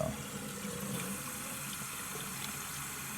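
Tap water runs steadily into a sink to rinse adhesive away, a continuous close hiss and splash that stays level throughout with no voices.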